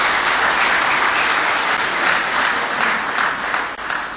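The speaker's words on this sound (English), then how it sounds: "Please give them a big round of applause." Sustained applause from a sizeable conference audience, loud and continuous throughout with steady dense clapping and no pauses.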